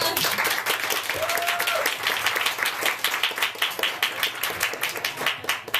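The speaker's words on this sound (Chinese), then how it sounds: "那我们现在就是就用最热烈的掌声来欢迎他" Warm applause from a seated audience at a business sharing meeting in Tainan, welcoming a speaker to the stage. It starts as a dense wash and thins toward the end into distinct rhythmic claps.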